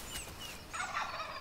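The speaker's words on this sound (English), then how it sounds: "the gobble can be heard a kilometre and a half away, and it's a call to arms" A wild turkey tom gobbles in a rapid, warbling rattle that rises midway through, moderately loud over a faint outdoor background with no voices.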